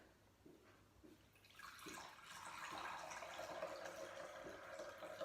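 Water for a homemade shampoo, about eight ounces, pours faintly into a container. It starts with a few soft drips, then builds into a steady, quiet trickling stream that runs until the end.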